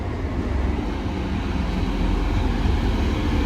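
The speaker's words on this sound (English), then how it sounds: "Right, train now arriving in is a Transpan Express" A TransPennine Express Class 185 diesel train pulls into Dewsbury station with a steady, moderately loud low rumble that holds even and unbroken for a few seconds.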